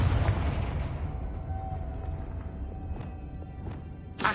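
A Confringo spell in the Hogwarts Legacy video game detonates in a booming explosion that rumbles and slowly fades over several seconds, with small crackles trailing off and a sharp burst right at the end.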